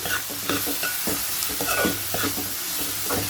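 Onions frying in a pan for chicken iguru, a steady close sizzle broken by repeated scraping stirs of a spatula, with no voices.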